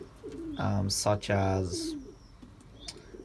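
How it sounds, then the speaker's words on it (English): Racing pigeons in a loft give soft, throaty coos in a short burst of several notes, close and clear, with a brief quiet chirp after. "this loft is going to be mainly for the racing pigeons"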